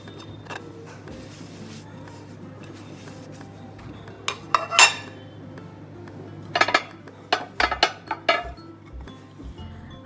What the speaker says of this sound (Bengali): অনেক দিন ধরে ভাবছিলাম ডিনার সেটগুলো ওয়াশ করব